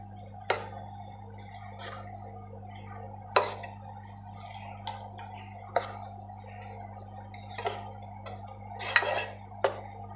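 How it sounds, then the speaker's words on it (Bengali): A utensil stirs carrot halwa with milk in a pot, giving sparse scraping clinks against the metal and soft wet squishes over a steady low hum, close and fairly quiet, without talking. "আরও এরকম করে নাড়বো।"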